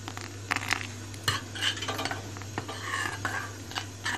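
A spoon drags and knocks through thickening salep in a pot, producing irregular scraping strokes and soft clinks against the metal over a low steady hum, with no one speaking.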